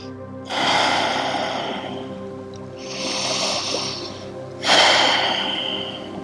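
A deep breath in and a long exhale during a yoga butterfly-pose fold: three broad, airy breath swells, close and moderately loud, with no talking.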